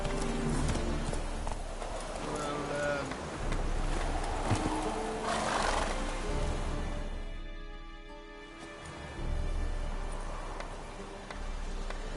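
A horse's hooves clip-clop in a steady galloping rhythm in the video game The Witcher 3, with wind and ambient game sound around them. There is no talking.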